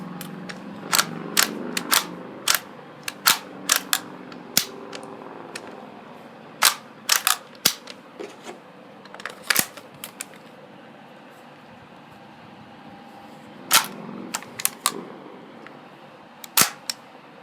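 KWA Kriss Vector airsoft gas blowback gun test-cycled by hand: sharp, close metallic clacks of the action, alone in quiet, coming singly and in quick pairs with irregular pauses throughout.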